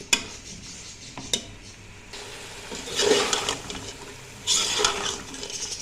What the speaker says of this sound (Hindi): और अब हमने इसको 2 से 3 मिनट भूनेंगे इसको।